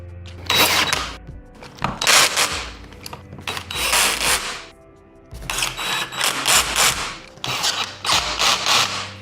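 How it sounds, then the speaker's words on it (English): Armrest bolts being fastened onto a chair, with repeated bursts of close ratcheting and mechanical clicking separated by short pauses. "all you have to do is put them in and use the last 4 remaining bolts that were in the same package as the plate itself."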